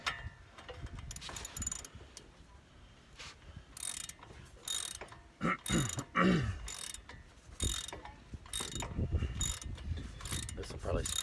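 Ratchet tightening a brake caliper bolt on a 2004 Dodge Dakota, producing bursts of rapid close clicking broken by short pauses, with metallic handling noises between strokes.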